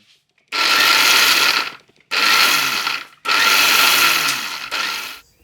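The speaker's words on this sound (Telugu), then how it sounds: "దీనికోసం అదే మిక్సీ జార్లోకి 4 బ్రెడ్ స్లైసెస్ తీసుకుని ముక్కలుగా చేసి ఫైన్గా గ్రైండ్ చేసుకుని బ్రెడ్ క్రమ్స్ని తయారు చేసుకోవాలి." Mixer grinder jar grinding bread slices into crumbs, four loud whirring bursts with short pauses between, close up, the last burst brief.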